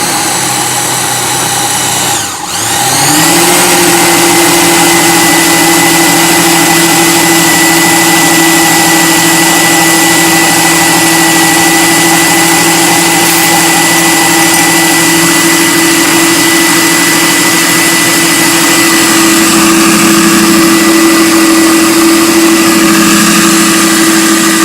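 A food processor whirs loudly as it blends hummus, the motor spinning up after a brief pause and then holding a steady, high buzzing drone for a long stretch.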